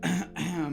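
A single throat clear or cough, close and fairly loud, in two short bursts with a brief gap between them, heard alone with no talking.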